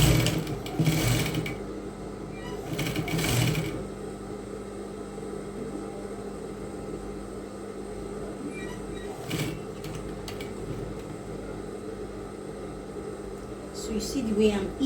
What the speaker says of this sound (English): then you start sewing.